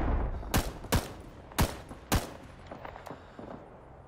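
Four sharp, loud gunshots ring out in the Rising Storm 2 battlefield, irregularly spaced and close by, followed by fainter distant shots and a low background rumble.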